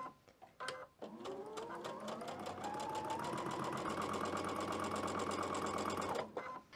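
A sewing machine stitches a star flag quilt block in a steady, whirring run of rapid needle strikes that builds to an even pace and then stops, close and alone without talk.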